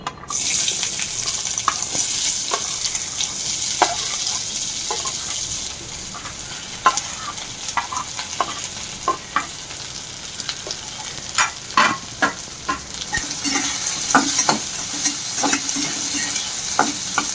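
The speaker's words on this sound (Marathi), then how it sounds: "त्याच तेलामध्ये कांदा चांगला परतवून घेऊ." Chopped onion sautéing in hot oil left over from frying garlic, with steady close sizzle and repeated sharp scrapes and clinks of a stirring spoon against the pan, no talk.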